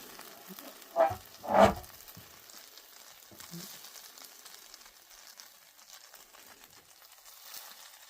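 Breakfast food sizzles in a hot frying pan, a faint steady crackle broken by two sharp thumps and a clatter early on as the food is handled.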